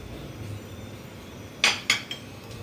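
A spoon clinks against a bowl while mixing spices, besan and cornflour: a few quick, sharp metallic taps, close and clear over a quiet room.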